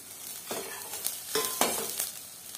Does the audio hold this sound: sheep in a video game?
no